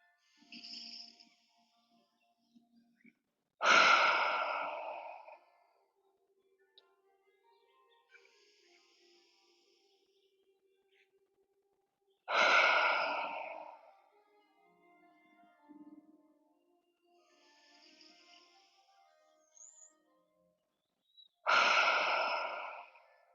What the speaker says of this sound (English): Taking in 3 deep breaths here, breathing in through the nose and out through the mouth.